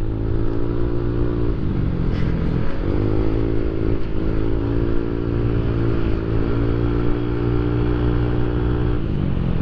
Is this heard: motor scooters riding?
yes